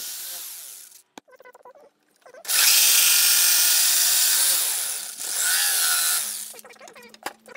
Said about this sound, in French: J'utilise une scie sauteuse pour réaliser cette coupe.